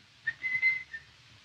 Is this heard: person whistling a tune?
yes